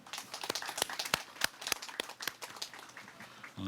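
Applause from an audience welcoming a family member at a memorial ceremony for the martyr Lee Han-yeol: scattered, fairly sparse claps with crisp individual hits, steady at moderate level for a few seconds.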